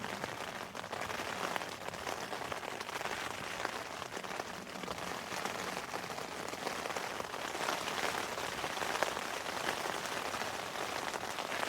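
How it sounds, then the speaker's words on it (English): Heavy rain batters a tent during winter wild camping in the UK, a dense, constant hiss and patter on the fabric that stays loud and unbroken throughout, with no voices. "Yeah, so that rain's really bad now. Absolutely battering the tent."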